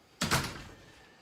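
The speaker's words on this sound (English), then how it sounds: "close the door behind me" A room door swings shut with a single solid thunk, fairly close, followed by a fading rattle and quiet room tone.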